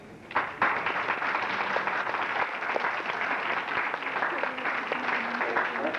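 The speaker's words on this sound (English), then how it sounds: "Steve, please stand up so we can give you a round of applause" A graduation ceremony audience at ITT Tech in winter 2004 gives a sustained round of applause for Steve Pitzel, who managed the evening's music. The dense clapping starts abruptly and stays loud and steady throughout.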